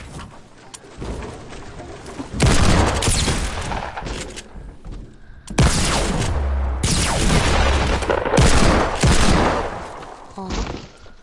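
Video game gunfire from a pump shotgun and a hand cannon on a playground map comes in loud bursts and booms, with sharp repeated shots across the stretch and no clear talk.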